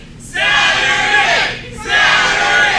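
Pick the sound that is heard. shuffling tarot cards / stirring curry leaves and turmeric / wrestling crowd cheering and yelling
wrestling crowd cheering and yelling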